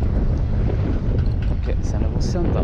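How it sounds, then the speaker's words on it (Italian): Strong wind buffets the microphone on a boat during inshore spinning for barracuda, a steady loud roar of gusts and water noise with no one speaking. "Il vento non vuole calare"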